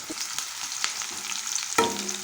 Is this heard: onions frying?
yes